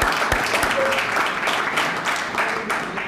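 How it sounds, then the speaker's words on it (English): Audience applause at a Boston College grant ceremony for two staff from the President's Office, a dense, even clatter of many hands clapping at moderate loudness, with a few sharper claps standing out at the start. "Can we have a round of applause for them?"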